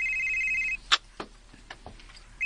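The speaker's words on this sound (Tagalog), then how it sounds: "Imo rong cellphone, oh. May bagting, Anton." A cellphone rings with a steady electronic tone, cutting off partway through and starting again at the end, with a few clicks and knocks in between in a quiet indoor setting.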